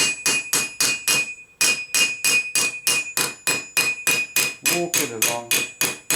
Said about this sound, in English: Just give it a couple of light taps.